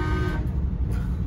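A 1957 Oldsmobile Super 88 sounds a brief, loud horn toot at the start, followed by a steady, close rumble of the classic car and road noise.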